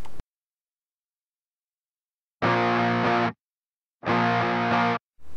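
Electric guitar played through a TS 999 overdrive plugin with the tone set to maximum, giving two bright, saturated strummed chords separated by silence, each ringing for about a second before cutting off.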